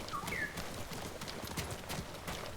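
Steady clip-clop of horse hooves at a running pace in the video game Ghost of Tsushima, moderately loud over a noisy, rain-like background, with a couple of faint bird-like chirps.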